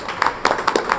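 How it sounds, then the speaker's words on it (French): A brief patter of clapping from an audience at a media awards ceremony in Guinea, a few quick uneven claps close by over a low room hum. "Applaudissez-vous."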